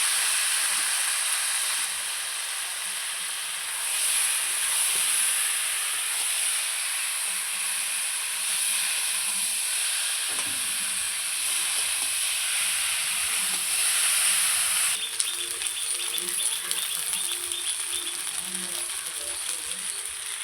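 Steady hissing sizzle of sajji taro (kochu) frying in a pan over high heat with bay leaves and a dried chili, with scraping and stirring clatter throughout and a sharp clink partway through.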